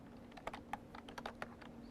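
Typing on a computer keyboard while entering text in a spreadsheet or database exercise, a quiet, close series of irregular key clicks with a faint steady hum behind, no talk.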